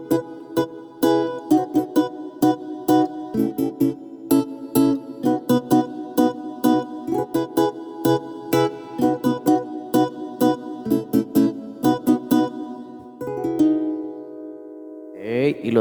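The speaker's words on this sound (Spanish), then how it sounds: "esta es una guitarra estilo como para acompañar un poco de bachata" Guitar preset on a Yamaha MODX8 synthesizer, strummed in a rhythmic bachata-style accompaniment pattern with steady chords, ending in a sustained chord and a brief final flourish.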